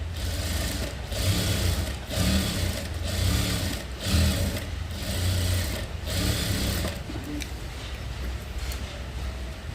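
A sewing machine stitching a sleeveless blouse, running in close, loud bursts of rapid whirring separated by brief pauses roughly every second or two.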